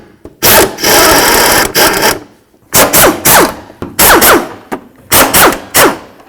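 A power tool loudly removes the upper fan shroud mounting bolts on a 1994-2004 Chevy S-10, heard as several sharp, close bursts of whirring and rattling with short gaps between them.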